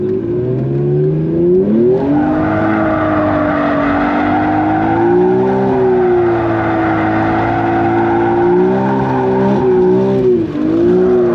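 A Nissan R33 GTR engine revs hard and continuously while drifting, a loud close strained drone whose pitch climbs, wavers and dips with throttle changes, with no talking.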